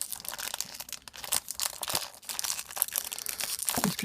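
Plastic film being peeled and crinkled off a Moyu speed cube box, a steady stream of close, quiet rustling and crackling with small tearing snaps.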